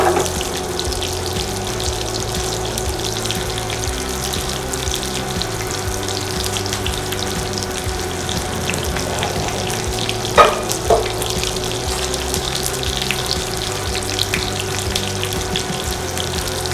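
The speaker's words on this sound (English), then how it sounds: "Okay, the gnocchi is done. I'm going to go drain that." Cooked gnocchi drained in a kitchen sink, with a steady rush of water and gushing liquid running for the whole stretch, broken by a couple of brief clatters midway, and no one speaking.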